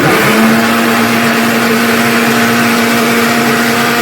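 An electric mixer whirs steadily and loudly, blending Goan mango raita with water. The motor drone stays even throughout, with a faint steady hum beneath.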